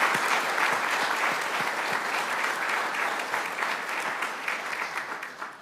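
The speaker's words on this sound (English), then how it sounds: "a round of applause for yourselves and for your families" Applause for new citizens and their families at a US District Court naturalization ceremony: a crowd claps steadily and fairly evenly, easing slightly toward the end, with no talk on top.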